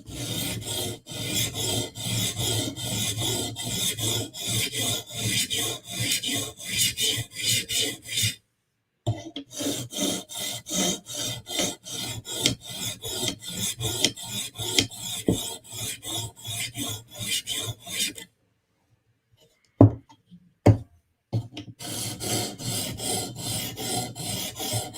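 Blade edge being sharpened with repeated rasping strokes to remove the burr, a fast steady rhythm of close scraping passes broken by a few short pauses and single strokes near the end, with no talking.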